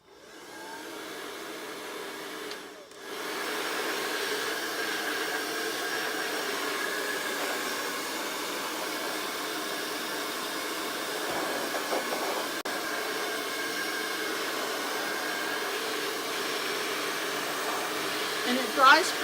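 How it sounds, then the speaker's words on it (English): A blow dryer runs steadily and loudly throughout, drying freshly painted craftwork, a continuous whooshing hum that briefly dips early on before resuming. "We're going to hit it with a blow dryer."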